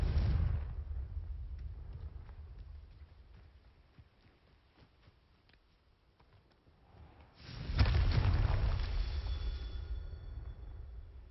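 Confringo spell blasts in the video game Hogwarts Legacy go off as heavy booming explosions, one rumbling blast fading out slowly and a second strong burst hitting later and rolling on, with no talk.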